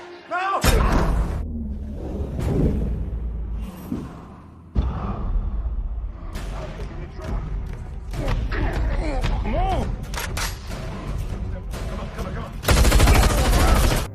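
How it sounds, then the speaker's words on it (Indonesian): A film shootout with robbers, loud gunfire bursts and a heavy sustained volley near the end among thuds, slams and creaks, with voices and a movie soundtrack mixed in. "Saat Hill sedang baku tembak dengan para perampok"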